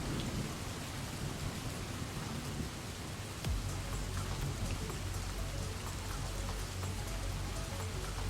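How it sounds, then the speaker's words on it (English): Heavy rain and a storm in the Roblox game Royale High, a dense steady downpour hiss with deep thunder rumbling underneath, continuous and fairly faint overall, with no talking. "Oh man, the storm kicked up."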